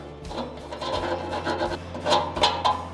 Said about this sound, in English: so I have this little sanding pad that I'm just gonna hit it with.